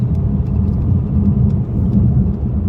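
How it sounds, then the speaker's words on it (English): A car on a road trip to Atlanta speeds along the highway, with a steady, loud, low engine and road rumble heard from inside the cabin, with no break in the drone. "So he is driving terribly fast."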